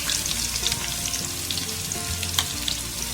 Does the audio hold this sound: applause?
no